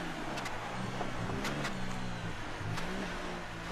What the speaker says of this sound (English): Got my engine sounds back